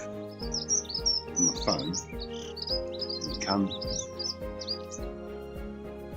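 Garden birds, including greenfinches, chirp and tweet at bird feeders with rapid high twittering calls throughout, recorded close up on a phone. Some soft background noise is present, and a person speaks briefly.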